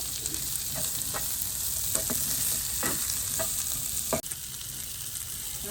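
Onions sizzle in a pan with fennel seeds and no added oil, a steady, close frying hiss broken by repeated scraping stir strokes, with no speech.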